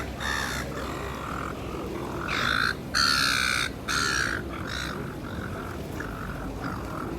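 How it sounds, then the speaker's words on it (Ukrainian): A seagull calls loudly and close in Australia, a series of harsh, repeated squawking cries with short gaps, standing out over steady outdoor background noise. "мафія чайка."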